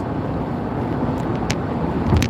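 Steady broadband road and tire rumble inside a moving car, a dense continuous drone with a few faint higher hisses and no talking.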